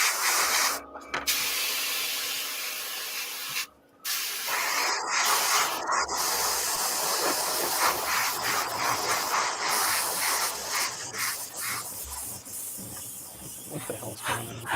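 An airbrush spraying dark iron paint, a close, airy hiss that cuts out briefly and resumes several times, with short gaps and the spray fading in and out.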